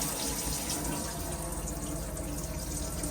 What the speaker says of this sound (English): so you can see that your pump's working as your water is pressurised